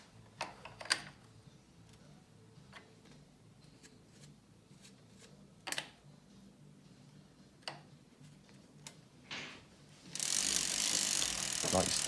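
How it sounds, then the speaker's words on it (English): Cranks of a Thorn Nomad MK2 bicycle with a Rohloff hub turn a freshly fitted chain, making a string of crisp, irregular mechanical ticks and clicks close by. A louder burst of broadband rattle comes near the end. "Give it a full rotation of the cranks."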